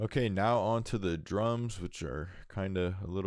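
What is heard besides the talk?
No everyday noises stand out.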